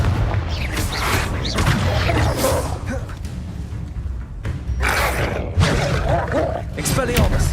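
Confringo explosion spells in Hogwarts Legacy burst as a series of booming, whooshing blasts in quick succession, loud and close, with a voice calling out among them.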